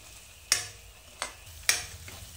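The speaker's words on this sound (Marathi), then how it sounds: "चांगले मऊ होईपर्यंत या बटर आणि तेलामध्ये भाजून घ्यायचे. आपला आता कांदा भाजत आलेला आहे." Onion cooking in butter and oil for pav bhaji, a soft sizzle under three sharp spatula scrapes or taps against the pan, close and spaced apart.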